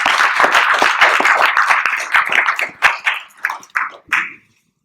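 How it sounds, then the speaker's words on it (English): An audience at a Phi Theta Kappa induction ceremony applauds with dense clapping that thins out into a few scattered claps before stopping. "we'll give her a round of applause"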